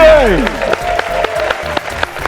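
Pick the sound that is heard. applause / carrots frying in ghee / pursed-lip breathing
applause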